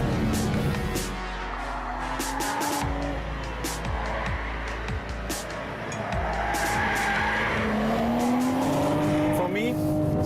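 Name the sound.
BMW 4 Series coupe driven hard through corners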